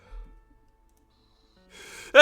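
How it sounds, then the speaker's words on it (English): A single close sneeze bursts out at the very end after near silence and a brief sharp intake of breath. "That was a bad sneeze."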